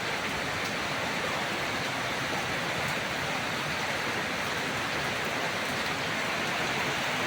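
Steady rain pours down in a dense, even hiss, drumming on a surface throughout with no voices.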